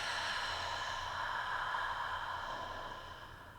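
A slow, steady exhale through the mouth during a guided meditation breathing exercise, a soft airy breath sound lasting several seconds and gently fading toward the end, heard alone with no talking.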